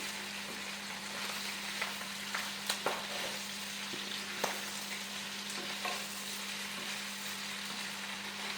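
Onions and curry leaves frying in oil for a Kerala-style pork fry sizzle steadily while a spoon scrapes and stirs the pan in light, irregular clicks, close and fairly quiet, with a constant hum beneath.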